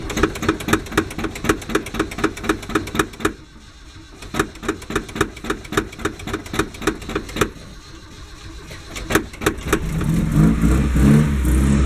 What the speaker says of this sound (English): I think it hesitates starting because trying to get fuel from the Weber carb